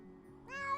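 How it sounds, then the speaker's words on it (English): A cat in the video game Dwarf Fortress lets out a single clear, rising meow, close and alone, over a faint background hum. "Oh, you're not going to meow for hours, are you?"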